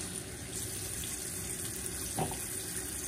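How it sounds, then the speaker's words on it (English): Water runs steadily from a bathroom tap while a face is being washed, a soft continuous splashing hiss heard close by for a few seconds without any talk. "Keep the water on. Wash your face."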